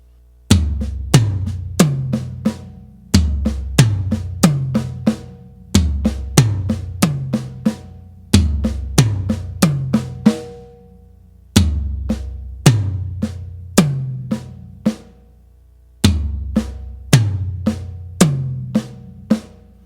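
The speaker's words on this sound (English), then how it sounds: "This is our tom melody." A drum kit plays a repeating seven-note tom melody with soft ghosted snare strokes between the hits, cycling in even phrases separated by short gaps, loud and close with no talking.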